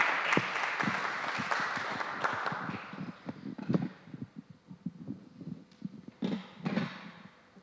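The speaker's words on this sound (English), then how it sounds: "Give yourselves a round of applause." Audience applause starts full and dense, then thins out over a few seconds into scattered claps and low thumps.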